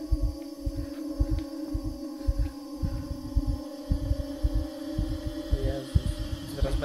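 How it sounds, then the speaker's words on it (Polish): A heavy heartbeat thumps in steady pairs through the video game Inside, pulsing low and rhythmic over a constant droning hum. "Słyszycie to bicie serca?"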